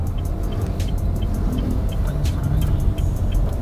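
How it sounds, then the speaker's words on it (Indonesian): Honda Mobilio with a CVT gearbox accelerating on a quiet street in Kelapa Gading, a continuous close engine and road rumble heard from inside, with faint ticking from the cabin. "sekarang gue lagi mau tes akselerasi mobil ini"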